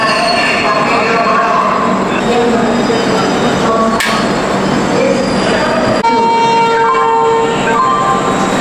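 Duronto Express train running from Howrah to Delhi, a loud continuous rumble and clatter of wheels on track with metallic squeals and a sharp jolt, heard close from on board.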